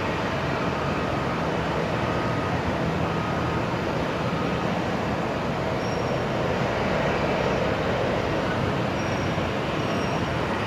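Qantas flight 1937 takes off from Brisbane Airport at night, a loud continuous broadband roar that holds steady throughout with no voices.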